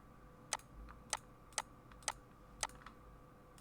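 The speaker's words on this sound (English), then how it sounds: "sorry for all of the mouse clicks." Computer mouse clicks during a crafting design tutorial: about six sharp, close clicks spaced roughly half a second apart over a quiet room hum, with no voices.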